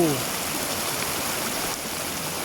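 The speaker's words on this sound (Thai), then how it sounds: "น้ำตกห้วยตึกชู" Huai Tuek Chu waterfall and stream in a rubber plantation in Phu Sing, Sisaket, Thailand, pouring as a steady, dense broadband rush of water that fills the whole clip without a break.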